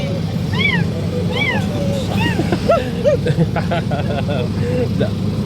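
Several short, rising-and-falling cat meows repeat over a steady background hum and murmur of distant voices and traffic.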